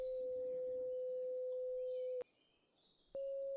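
A steady, thin electronic hum from a Minecraft hang glider drones, cuts out abruptly for about a second, then resumes.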